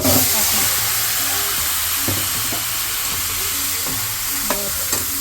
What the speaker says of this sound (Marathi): आता हे आंबे पण टाकून